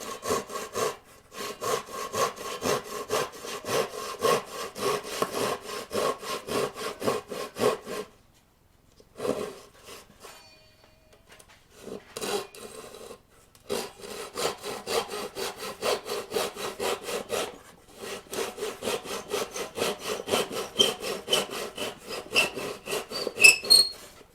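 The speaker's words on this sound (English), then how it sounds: "So got my little handsaw. Just gonna take care of that." A small handsaw rips through wood in steady back-and-forth rasping strokes to trim corners on temporary wooden stairs, loud and close, with brief pauses before the sawing resumes.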